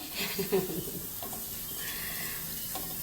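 Ingredients for a Thai sour curry with mackerel are stir-fried in a pot, giving a soft sizzle with a few scraping stirs near the start and quieter frying after, with no talk.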